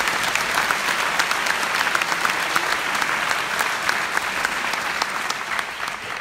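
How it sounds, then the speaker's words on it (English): Sustained applause from a sizeable high school town hall audience, dense clapping at a steady level throughout with no voices standing out. "I want you guys to give yourself a round of applause"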